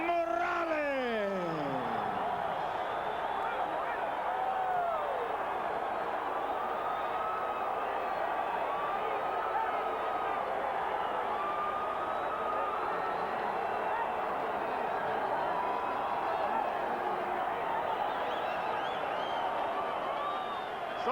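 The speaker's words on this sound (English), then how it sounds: "So the crowd reacts to the split decision in favor of Erik Morales." A boxing arena crowd roars steadily after a split decision in a title fight, a loud, sustained wash of cheering and shouting with a brief announcer-like voice at the start.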